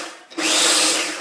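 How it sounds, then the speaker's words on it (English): A blender pulses oats into flour in a single short, loud whir that starts abruptly after a brief quiet moment and holds steady to the end. "we're going to chop up the oats and turn it into some sort of"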